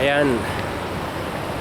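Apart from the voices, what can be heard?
floodwater rushing in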